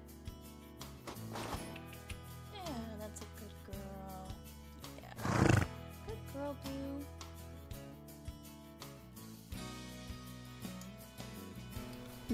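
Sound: horse neighing

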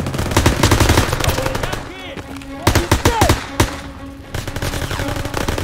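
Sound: gunfire in the video game Call of Duty: WWII

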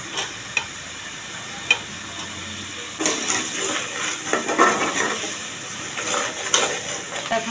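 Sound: prawns frying and being stirred in spice paste

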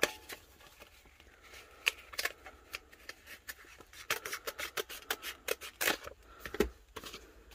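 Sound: scissors cutting vinyl

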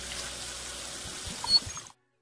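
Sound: washing hands with soap and water

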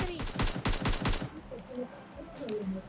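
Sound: gunfire in video game PUBG Mobile Lite

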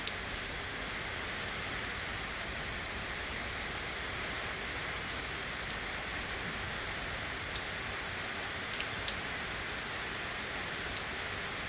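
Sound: rain

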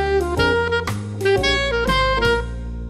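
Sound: blues lick built from the major blues scale

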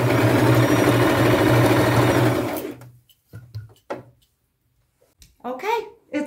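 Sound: sewing machine stitching lace tunic

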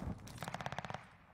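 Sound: STG assault rifle gunfire in Warzone video game

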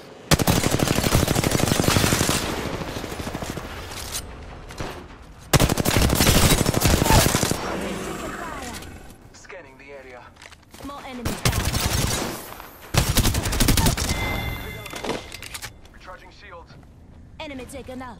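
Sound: gunfire in a video game

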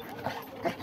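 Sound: dog

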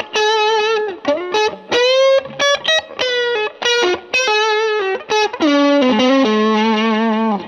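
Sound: 1989 PRS Special electric guitar played with distortion

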